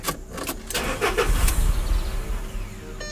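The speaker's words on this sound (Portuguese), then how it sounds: "O carro pega e morre." A car engine cranks, catches briefly and then dies, with sharp starter bursts followed by a short rough rumble that fades, loud and close by a fishing spot.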